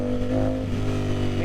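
A Ducati Panigale motorcycle engine rumbles steadily and loudly up close under throttle, a continuous deep humming drone with no clear pauses.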